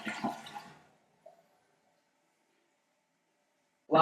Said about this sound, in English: Should be able to flush it.